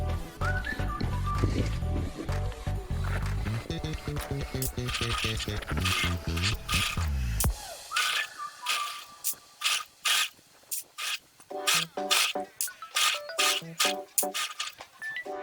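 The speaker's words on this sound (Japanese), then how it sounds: "ピンで留めましたら端から5ミリのところを縫います" A sewing machine runs a seam 5 mm in from the edge of a zippered lunch bag, its needle mechanism ticking in a steady rapid patter that speeds up and then breaks into short stop-start bursts.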